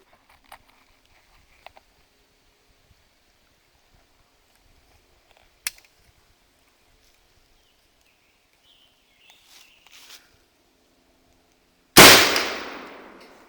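An 1861 rifle musket fires once with a loud, sharp blast that decays over a second or two, after a long near-silent stretch broken by faint handling clicks.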